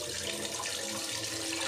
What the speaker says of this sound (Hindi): सबसे पहले इसके अंदर पानी शामिल करूँगा,